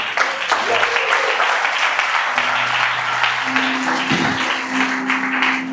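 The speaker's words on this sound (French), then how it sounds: "Est-ce qu'on peut acclamer la parole de Dieu?" A church congregation applauds at a French-language service, a continuous crackle of many hands clapping with voices and cheers mixed in throughout.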